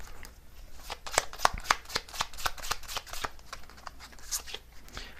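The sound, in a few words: tarot cards being shuffled and drawn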